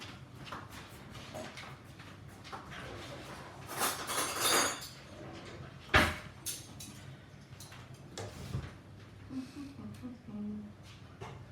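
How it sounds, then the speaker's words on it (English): Metal cutlery clinks and rattles in a home kitchen during cupcake and Viennese whirl baking, with one sharp clatter standing out amid scattered dish and utensil knocks under faint background noise. "So let me get the spoon out"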